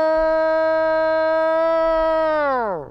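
A single long, mournful imitated Bigfoot howl in the Ohio howl style, a human voice holding a steady siren-like tone for about three seconds, loud and close, then sliding sharply downward as it fades out.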